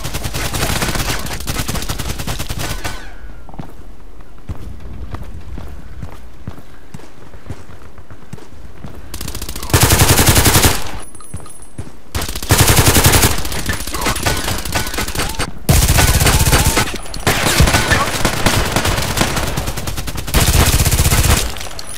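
Automatic pistol fire in the Contract Wars shooter game, heard as four loud, short rapid bursts spaced a few seconds apart, with quieter game noise and movement in between.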